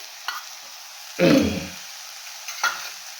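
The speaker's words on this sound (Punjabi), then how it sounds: "ਹੁਣ ਅਸੀਂ ਪਾਵਾਂਗੇ ਇਹਦੇ ਚ ਪਿਆਜ਼ ਗ੍ਰੈਂਡ ਟਮਾਟਰ ਗ੍ਰੈਂਡ ਕੀਤਾ ਹੈ" Grated onion and tomato going into hot oil in a pan for Punjabi kadhi pakoda, giving a brief burst of sizzling and stirring followed by a softer second hiss over low kitchen background.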